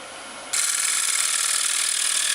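A wood lathe cuts a small wooden plate, and the tool makes a bright, steady hiss that starts abruptly after a moment of quieter hum and keeps going evenly, close and alone.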